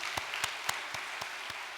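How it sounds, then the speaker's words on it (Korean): Congregation applauding in a church farewell service, heard as a soft, distant wash of clapping with a few sharper individual claps standing out at a steady rhythm. "우리 식구님들 모두에게 정말 큰 박수 올려드리도록 하겠습니다"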